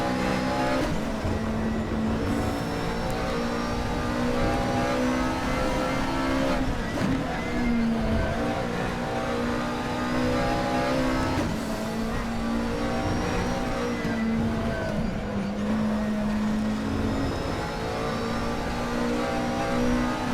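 McLaren 12C GT3 race car driving at Sachsenring, its engine holding a loud steady roar close up, pitch wavering slightly through gear changes and corners for the whole stretch.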